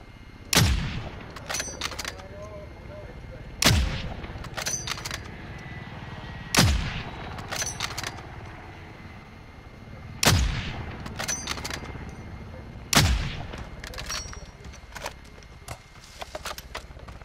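Heavy gunfire in the Warzone video game while shooting down a target, five loud booming shots spaced about three seconds apart, each with a short rattling tail over background game ambience.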